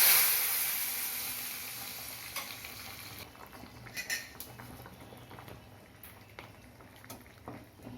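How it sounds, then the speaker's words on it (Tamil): Oil sizzles and crackles as mustard seeds and chillies are tempered, a hot hiss at first that settles into scattered pops and spatters. "கடுகு மிளகாய் தாளிக்கணும்."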